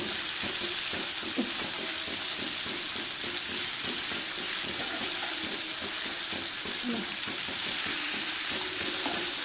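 Fish fried in a pan with tamarind poured over it, giving a close, steady, dense sizzle that carries on without pause and with no voices.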